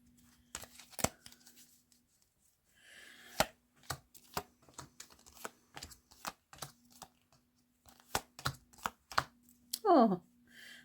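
Tarot cards are shuffled in quick, irregular bursts of crisp riffles and taps, close and fairly quiet, with a brief swishing slide near the end and no talk.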